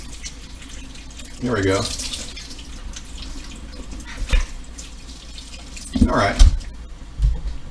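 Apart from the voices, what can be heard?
water tap running while rinsing vegetables in a sink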